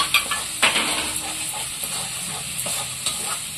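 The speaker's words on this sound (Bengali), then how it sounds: "ভালো করে নাড়তে হবে এইভাবে, নয়তো লেগে যাবে" Spices and chili paste stirred and fried in a pan for a taro stalk curry, a steady close sizzle broken by several brief scraping stirs, with no talking.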